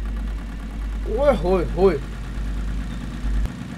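A jeep engine idles with a low, constant drone throughout, while a man gives a short, sing-song exclamation over it midway.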